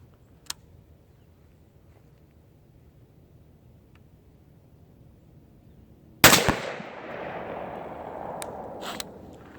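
A rifle fired at an outdoor shooting range: after several seconds of near-quiet, one sharp, loud report bursts out and trails into a lingering rumble of noise.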